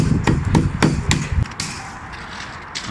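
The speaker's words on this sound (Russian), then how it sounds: "я их снимаю банальным молотком, чтобы глубина была" A hammer knocks mortar ridges off decorative stamped stone: five or six close, heavy, evenly spaced blows, then scraping and debris noise.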